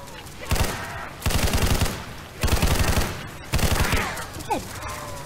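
Rapid bursts of automatic gunfire from a gun in a zombie video game, four loud volleys of fast repeated shots separated by brief pauses, with a faint voice underneath near the end.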